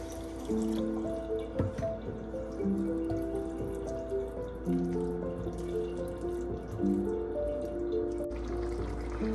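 Water trickles and splashes into a pan of potato and pea curry, a steady running pour with gentle drips, fairly close and moderately quiet, without any speech.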